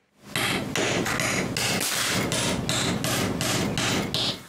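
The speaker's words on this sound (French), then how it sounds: "on place l'autre épaisseur dessus et on le cloue" A hammer drives nails into a plywood floor layer laid over another plywood sheet, about ten loud, close, sharp blows in a steady rhythm roughly every half second.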